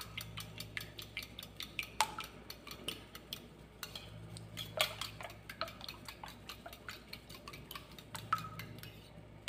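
A utensil stirring egg into tomato soup in a pot, a quiet series of irregular light clinks and scrapes against the pot, close and alone.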